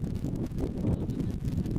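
Steady wind buffeting the microphone, a low rumbling roar that stays fairly constant with no voices.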